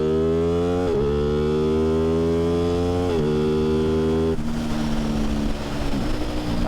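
An Aprilia Tuono 660 motorcycle with an aftermarket exhaust idles with a rich, droning tone and is blipped up in revs three times in close succession, each a short rising snarl.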